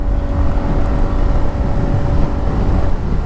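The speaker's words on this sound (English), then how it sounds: "I think you can feel the power when I open the throttle by listening to its engine sound." An Aprilia SR160 scooter engine runs with the throttle opened, a dense, continuous buzzing drone with steady low rumble and wind noise, loud and close throughout.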